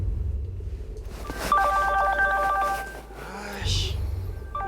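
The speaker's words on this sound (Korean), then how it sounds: "핸드폰 벨소리가 요란하게 울리는 겁니다" Cell phone ringtone sounding at night, a bright electronic melody of repeated tones that rings for a couple of seconds amid low rumble and other noises.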